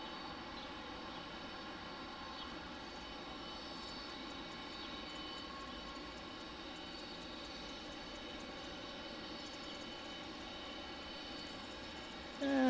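Airbus A319 airliner at Detroit Metropolitan Wayne County Airport, a steady droning engine roar with a tonal hum held at a constant level, fairly distant and unbroken, with no talk.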